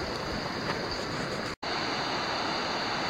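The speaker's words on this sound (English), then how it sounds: "there's some amazing waterfalls on this creek down. It's just running strong" Strong waterfalls on a full-running creek roar as a dense, continuous rush of white noise, loud and steady with no voices, broken only by a brief cut in the middle.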